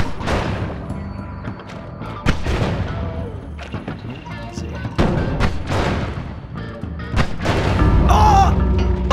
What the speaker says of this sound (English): What explosion was that? That wasn't one of mine!